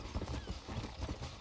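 A horse in the video game Red Dead Redemption, rhythmic hoofbeats clopping steadily and close, with a faint whinny-like tone threaded through the quick footfalls.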